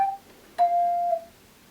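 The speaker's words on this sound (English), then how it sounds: "You can ring touch chimes." A handbell chime rung with a ring touch, a soft short tone followed by one clear struck note that sustains briefly and is damped, quiet and close in a still room.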